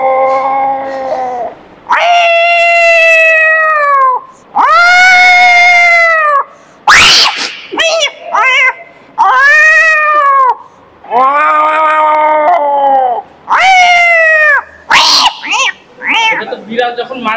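A person imitates cats fighting, producing a series of loud, drawn-out yowls and screeching caterwauls interspersed with sharp spits and hisses, in bursts separated by brief pauses.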